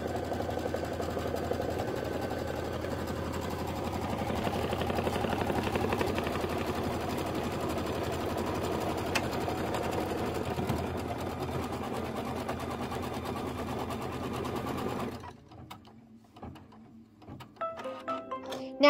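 An embroidery machine stitches a tack-down line on a bag front with a steady, dense mechanical whir. The hum runs continuously for about fifteen seconds before stopping, and a few light clicks and taps follow.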